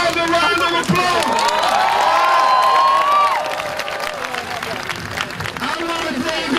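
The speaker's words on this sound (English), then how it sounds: "So give yourselves a round of applause." A large outdoor crowd at a Trayvon Martin march and rally in Melon Park, Sanford, Florida, cheers, shouts and claps loudly. The applause swells, holds and then thins into scattered clapping and voices.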